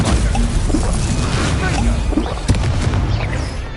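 Heavy booming crashes from the Stupefy spell in a Hogwarts Legacy battle: loud, dense impacts that blend into continuous combat noise.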